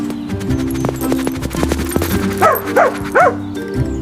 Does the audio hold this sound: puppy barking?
yes